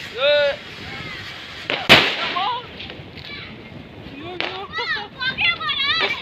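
A single sharp firecracker blast cracks out during Diwali amid excited children shouting and chattering nearby.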